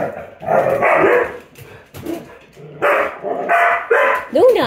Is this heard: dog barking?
yes